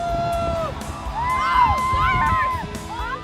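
A huge crowd packed into and around a sold-out hotel, restaurant and bar cheers and whoops at the midnight bear drop, with loud, dense shouting and bright celebratory cries that swell and hold throughout.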